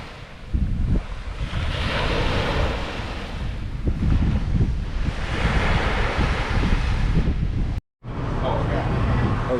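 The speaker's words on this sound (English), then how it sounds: "and a little bit of waves." Surf washing onto the shore at Key West, a steady broad roar of waves mixed with gusting wind on the microphone, with a brief dropout near the end before the rushing water resumes.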